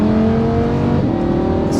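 Lamborghini Huracan V10 fitted with a Supersprint exhaust, a loud, steady, deep engine drone held close for under two seconds, the pitch shifting slightly midway, with no talking.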